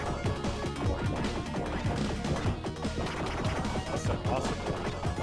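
Grenades drop and burst over and over in the Sega Genesis shooter Mega Turrican, a dense run of crashing explosions and blasts mixed with game music while a player talks and reacts.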